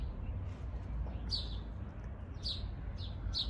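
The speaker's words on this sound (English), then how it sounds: "At least I can let y'all hear the birds" Birds chirp outdoors in Gambia on a morning in nature, giving a few short, bright tweets spaced about a second apart over a steady outdoor background hum.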